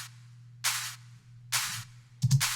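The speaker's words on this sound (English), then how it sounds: "The clap sounds like this." Electronic clap drum sample with reverb in a trance track produced in Logic, heard as three sharp, bright claps spaced about a second apart with short reverb tails, over a low steady hum, with no voices.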